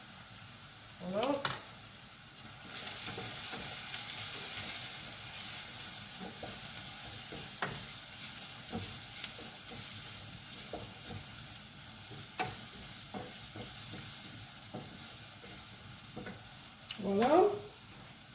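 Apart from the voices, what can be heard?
stirring Thai shrimp soup ingredients while cooking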